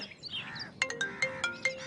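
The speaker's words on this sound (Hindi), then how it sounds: "ओहे, मेरी डार्लिंग का फोन आ गया" A mobile phone ringtone sounds for an incoming call in a dubbed South Indian film scene, a repeating chiming melody of regular bright pulses, fairly close and clear with no talk over it.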